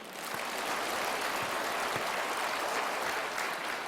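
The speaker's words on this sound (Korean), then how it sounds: "기쁘시면 박수 한번 해요." A church congregation claps during a Sunday sermon, a soft, even wash of many hands heard at some distance and fairly quiet throughout.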